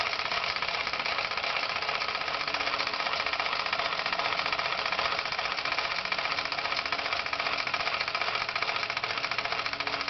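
A Falk 450 overtype engine runs steadily with a dense, even knocking chug, sounding slightly strained as it lugs down under load, moderately loud and continuous with no talking.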